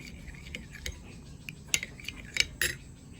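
Coffee and gelatin face mask mixture being stirred in a small container, with a few light clinks and scrapes of the spoon against the bowl, quiet and close, with scattered sharper taps toward the end.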